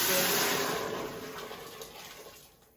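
Water poured into a soup pot while making wild garlic soup, a steady splashing pour that starts fairly loud and gradually tapers and thins toward the end.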